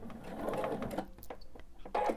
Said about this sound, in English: Be good if my sewing machine was in forward and not reverse.